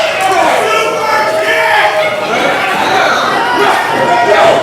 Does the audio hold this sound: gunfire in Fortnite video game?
no